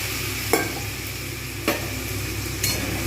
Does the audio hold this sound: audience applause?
no